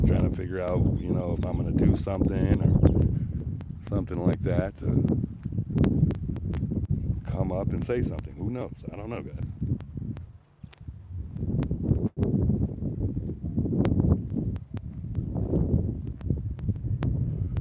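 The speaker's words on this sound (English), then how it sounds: "It's super, super windy out here." Heavy wind buffets the microphone in rough rumbling gusts while someone talks steadily over it.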